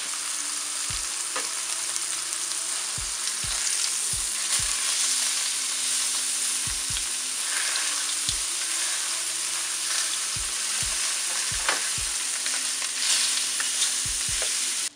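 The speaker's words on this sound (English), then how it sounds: "I put my steak in a screaming hot skillet with a little bit of oil on one side" A steak sears in a screaming hot skillet with a little oil, giving a steady, loud sizzle and crackle throughout, punctuated by sharp low thumps and knocks as the pan shifts on the burner.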